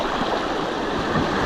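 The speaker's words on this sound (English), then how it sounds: "We got some real rapids coming up." River rapids rushing around a kayak, a loud continuous broadband roar of churning whitewater filling the whole moment with no pauses.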